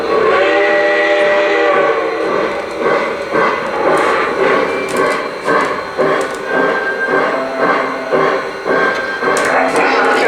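A Lionel Reading T1 model train runs steadily with a continuous rolling rumble and rhythmic clicking, with whistle-like tones rising above it throughout.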